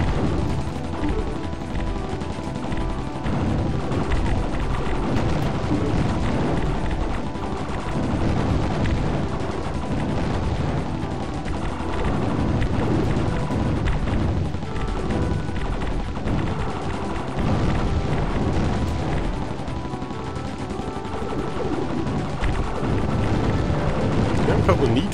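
Dense, continuous stream of bomb explosions and booming gunfire from the shooter game Tyrian 2000, loud and sustained throughout with no pauses and no talking.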